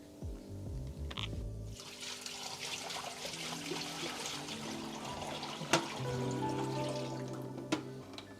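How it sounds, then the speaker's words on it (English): Water is poured into a bioactive terrarium for poison dart frogs to test its drainage, a soft trickling and splashing that runs steadily for several seconds, fairly quiet, with a brief low hum at the start and a couple of sharp clicks. "Now I want to test the drainage, see how that works. I'm going to add some water."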